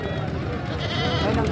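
Goats bleat amid the din of a crowded goat market at Jehaz Chowk in Pakistan, the calls partly buried under constant nearby chatter and voices.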